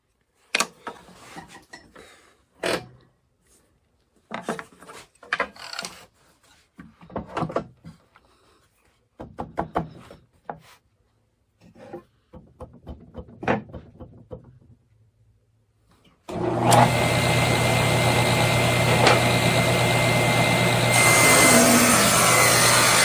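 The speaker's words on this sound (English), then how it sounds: "This time I'll lower the blade down to about 5/16 of an inch, push the fence over, and make one more cut." A table saw cutting a rabbet into wood starts up after a stretch of scattered knocks and clatter, then runs as a loud, steady whine and roar to the end.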